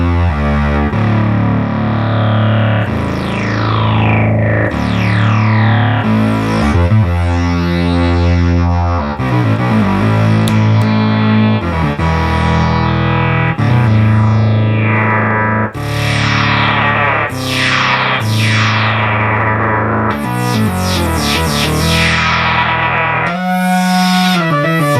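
A restored R.A. Moog Minimoog synthesizer plays loud, distorted frequency-modulated tones mixed with noise and LFO modulation, with sweeping, swooping pitch glides and pulsing held notes running continuously and alone.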